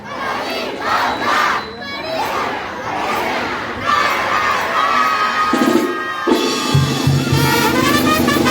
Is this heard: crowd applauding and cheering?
yes